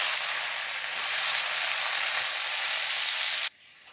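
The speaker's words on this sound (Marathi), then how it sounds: "भाजी छान मी या तेलामध्ये मिक्स करून घेतली आहे." Kardai greens sizzling as they are stirred into hot oil tempering, a loud continuous fry close by that cuts off abruptly near the end.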